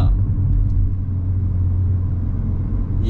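Volkswagen Golf R cruising on a highway in race mode, a loud steady low engine and road rumble heard from inside the cabin, with no speech over it.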